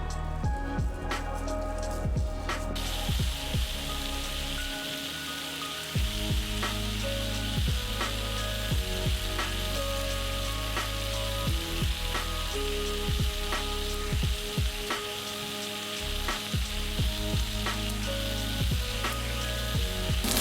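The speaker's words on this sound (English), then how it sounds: "Then I'm going to transfer them over to my hot cast iron skillet for browning." Meatballs browning in a hot cast iron skillet, giving off a loud, continuous sizzle with crackling pops that run steadily throughout.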